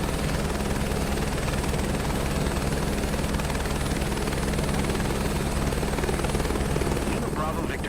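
Helicopter taking off from a helipad in a flight game, a loud, steady rotor thump and turbine whine that stays constant and close, with a voice speaking over it.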